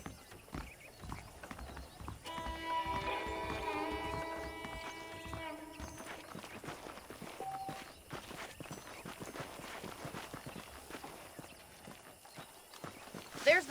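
Steady hoof clip-clops from Red Dead Redemption plod along at a walking pace, with a horse whinnying briefly and faint background ambience throughout.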